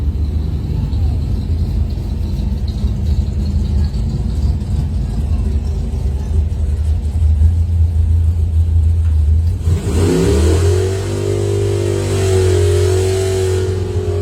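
Doorslammer drag cars, a Ford against a Mopar, roar loudly at a test-and-tune event, engines droning steadily before a sharp rising launch burst that carries on to the end.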